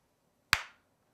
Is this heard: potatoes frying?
no